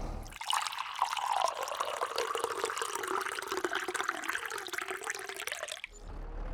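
Water rushes steadily into a tank in Farming Simulator 22, a continuous loud gushing fill with shifting tone that runs for several seconds and then cuts off abruptly.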